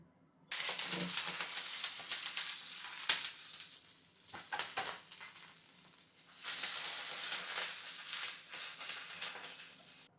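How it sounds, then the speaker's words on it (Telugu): Chillies crackle and sizzle in oil at moderate volume, fading briefly midway before the hiss swells again; no one speaks. "కొద్దిగా ఆయిల్ వేసి మిర్చి వేయించుకున్నాము"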